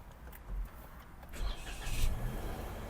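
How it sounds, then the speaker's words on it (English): A 2024 Toyota Yaris engine cranks and catches, a brief starter whir building into a low, steady idle rumble heard close up from the cabin, alone with no talk. "Now we will start the car."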